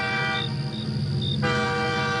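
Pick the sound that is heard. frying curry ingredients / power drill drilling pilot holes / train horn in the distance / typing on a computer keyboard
train horn in the distance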